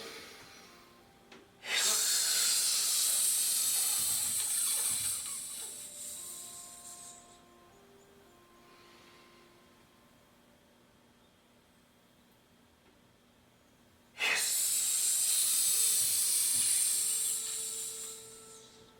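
Two long, loud hissing exhales from a Chinese healing sounds breathing exercise, separated by a quiet pause, each a steady breathy rush of air that slowly fades.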